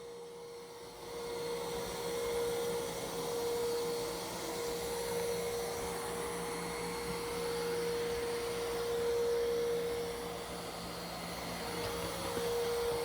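A Roomba Plus 575 robot vacuum cleans the floor with a steady, close motor whir and suction drone that hold constant throughout, joined by a faint tonal hum, with no talking.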